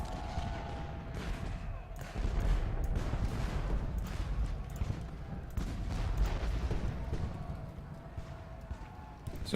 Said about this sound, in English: That's just artillery, luckily.